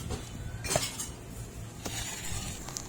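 A utensil clinks and scrapes against a bowl while waffle batter is mixed with chocolate, giving a few light taps and stirring sounds at close range.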